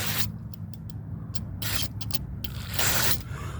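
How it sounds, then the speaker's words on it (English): Cleaner is sprayed from an aerosol can into the EGR valve hole of a Chevy Blazer with a Vortec 4.3 engine, several close hissing bursts of varying length separated by brief pauses. "I just sprayed it in here, this hole right here. You want to fill that hole up."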